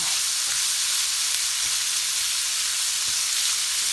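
Beef stir-frying in a pan in a home kitchen, a steady loud sizzle with faint clinks of stirring throughout.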